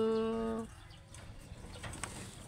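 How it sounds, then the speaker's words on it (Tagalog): A single low, steady pigeon coo sounds briefly, then fades into faint background noise. "Yan po, digdiyo po ang kalapati ko po."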